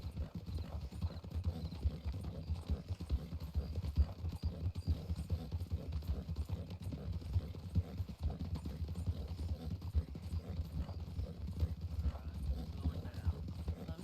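Horse hooves clip-clop steadily and rhythmically at an easy walking pace in the WildRP video game, continuous and moderately loud for the whole stretch, with faint talk underneath.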